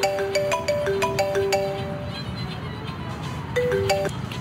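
A telephone rings with a repeating electronic melody of short beeping tones, sounding clearly, pausing briefly, then starting again over faint background noise.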